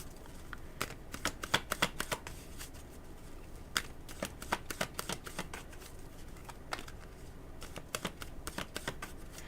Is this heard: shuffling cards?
yes